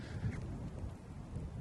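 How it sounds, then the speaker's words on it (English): Heavy rain drives down during Storm Bert on the Davenport Estate, a loud, unbroken wash of noise up close with a low rumbling undertone throughout and no talking. "we have got rain right in the middle of Storm Bert"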